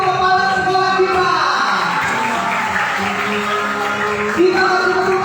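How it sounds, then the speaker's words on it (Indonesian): Schoolchildren and guests applaud the headmaster at a storytelling event, a continuous dense roar of clapping and crowd noise holding at an even, loud level throughout. "Kita kasih tepuk tangan untuk kepala sekolah kita."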